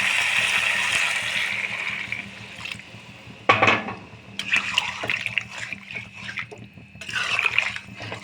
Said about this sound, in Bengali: এখন আমি জল অ্যাড করে দেবো।